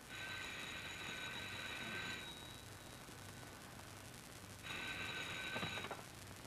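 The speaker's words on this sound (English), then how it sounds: "They're still ringing, Mr. Howard." A 1931-era telephone bell rings in two bursts, a steady jangling ring of about two seconds, a pause, then a second ring, faint and thin with background hiss.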